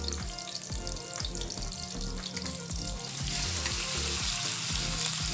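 Chicken and onion fry in a pan for Filipino chicken adobo, giving a steady close sizzle with occasional stirring scrapes and no talking.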